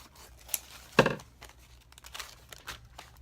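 Coffee filters being cut in half with scissors: a few short crisp paper snips and crinkles, one louder cut near the start and softer ones following, close and without talk.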